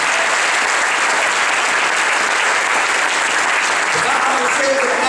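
Steady, dense applause from a church congregation fills the space evenly, a continuous wash of many hands clapping at once with no break.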